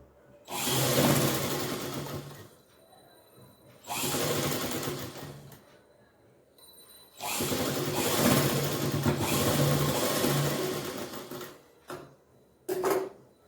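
Electric sewing machine stitching a frock for a five-year-old girl made from household cloth, running in three loud bursts of steady whirring, each a few seconds long, with short pauses and small clicks between runs.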